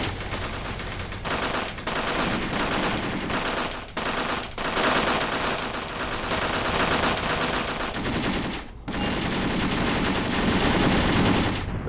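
Loud, rapid machine-gun fire and bursts of gunshots during a tank and APC battle in the war game Graviteam Tactics, Operation Hooper, continuous and close with short gaps between volleys.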